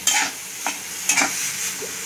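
Grated coconut stir-fried with milk for sweet laddoos, a steady sizzle with several distinct scraping stirs of a spoon through the pan, close and alone.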